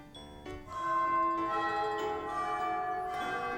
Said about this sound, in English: the bell that signaled the end of lunch rang